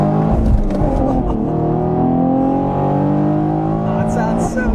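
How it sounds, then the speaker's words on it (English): A 2019 Chevy Camaro V6 1LE accelerating with its dual-mode performance exhaust in track mode on a back road, a steady rising engine drone that stays loud throughout, with some talk mixed in. "we have the dual mode exhaust in its track mode"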